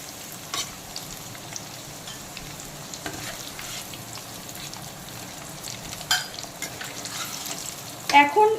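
Potatoes deep frying in oil, a continuous close sizzle with faint spoon clinks and a louder scraping clatter at the end.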